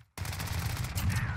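Rapid gunfire in a Portuguese-language battle royale match, a dense continuous burst of shots starting abruptly after a short silence and running to the end, fairly loud and close.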